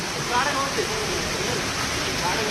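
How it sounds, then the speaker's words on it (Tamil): Heavy rain in Kanniyakumari during a power outage, a dense, steady, loud roar of downpour filling the whole moment without a break. "செம்ம மழை"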